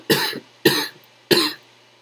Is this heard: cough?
yes